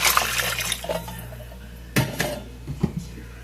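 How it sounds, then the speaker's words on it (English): Beef broth is poured into a pan holding Lipton onion soup mix, with a brief splashing pour up close, then a few sharp metallic clanks and taps from the pan. "And going to add some beef broth."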